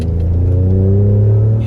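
Ford Raptor pickup truck engine pulling under acceleration, a loud, steady low rumble with rising harmonics, heard close from inside the cab with no talk.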